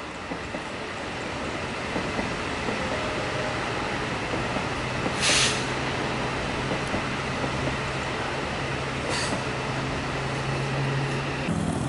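Yellow CIT track inspection train of the Jakarta–Bandung high-speed railway rolling into platform 3, a steady loud rumble of wheels on rails with a low hum and brief hissing bursts.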